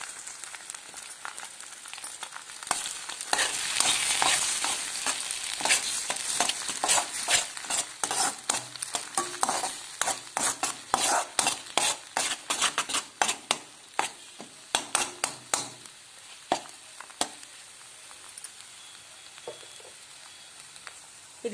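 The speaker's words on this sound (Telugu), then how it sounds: "ఇప్పుడు ఇది ఆయిల్లో ఫ్రై కావాలి." Eggs frying in oil in a pan for egg rice, a steady soft sizzle broken by frequent sharp scrapes and clicks of a spatula stirring, fading toward sparse taps.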